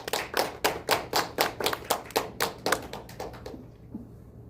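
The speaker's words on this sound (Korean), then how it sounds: "큰 박수로 응원해 주십시오." A small audience at a local election candidacy press conference in Ansan claps in strong, fairly regular beats that are loud and near at first, then thin out and stop, leaving a quiet room.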